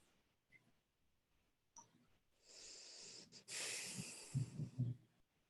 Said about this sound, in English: Will you stop breathing like that?